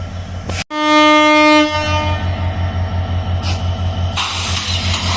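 A railway locomotive on the SilkCity Express route gives a long, loud horn blast, then keeps running with a steady rhythmic engine throb and a couple of brief noise bursts near the end.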